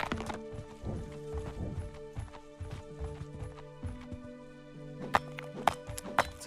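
Animal footsteps in the video game Grand Emprise, a rhythmic run of hoof-like clopping steps with a sustained tonal drone behind, close and clear.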